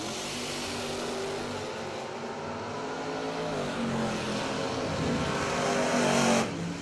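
Chevy II and Camaro bracket drag racing cars launching side by side, a steady loud engine roar with rising harmonics that builds toward the end, no voices.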